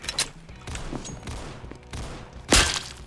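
Gunfire in the Roblox game CS:GO: several sharp shots ring out, with a loud close blast near the end standing above quieter game noise.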